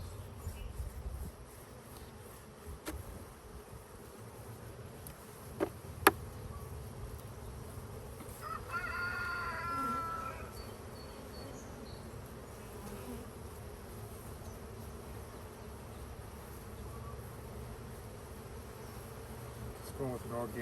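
Honey bees hum around an open hive being inspected and treated for mites, a soft continuous drone of many wings with occasional nearer buzzes passing by, faint and steady throughout.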